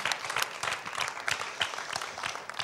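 Audience applause at a televised Armenian folk singing contest gala honors a contestant: dense, steady clapping with sharp individual claps standing out, moderately distant and continuous throughout, with no talk.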